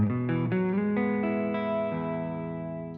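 Electric guitar with passive pickups played through a switched-on buffer: a quick run of distorted picked notes settles into a long sustained ring with chorus and slight reverb, close-miked with no voices.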